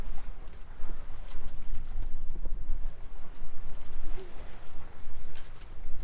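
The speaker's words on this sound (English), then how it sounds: "we're just happy to be sailing and not listening to the motor" A sailboat moves under sail on the open sea off Los Angeles with no motor running, heard as a rhythmic swash of water against the hull mixed with low rumbling wind noise.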